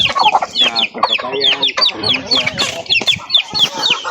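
Chickens clucking busily up close, a dense overlapping chorus of short clucks and squawks that continues throughout.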